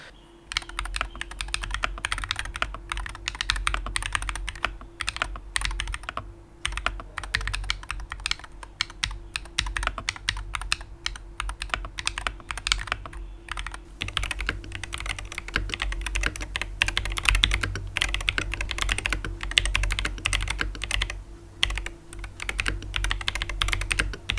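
Rapid, steady typing on a Hall effect keyboard with dense clicking keystrokes, close and continuous, a low hum running underneath.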